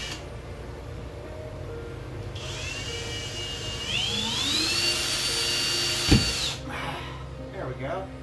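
A power drill drives screws up into a wooden rafter through a sheetrock ceiling while a security camera is mounted. The motor whirs steadily and rises in pitch as each screw sinks, and a sharp knock sounds near the end.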